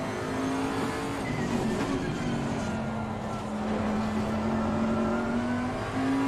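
Race car engine at low revs in Assetto Corsa Competizione, a steady, fairly quiet drone with a low hum that dips slightly and rises again, continuous and alone without talk.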